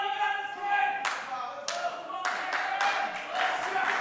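Live wrestling crowd in Miami, Florida, clapping in sharp bursts, several loud claps and smacks spaced unevenly over a few seconds, with a faint voice heard early on.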